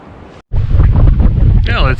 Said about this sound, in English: The wind's died down a touch, but it's still pretty heavy here.